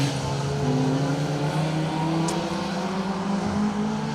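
A rally car, likely a BMW Z3, on a stage of the Colin Ellmore Memorial Rally 2025. The engine holds a steady high drone, strong and fairly near, with no talk over it.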